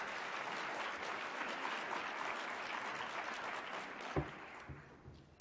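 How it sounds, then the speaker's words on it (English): Audience at the 2014 Blueprints Conference keynote gives a sustained, even round of applause from a large room, the clapping holding steady for several seconds before thinning out with a few last claps. "Can I get a round of applause for that?"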